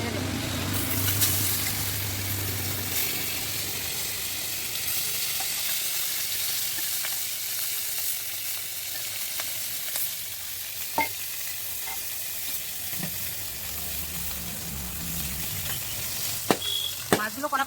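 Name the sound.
fish frying and sizzling in hot oil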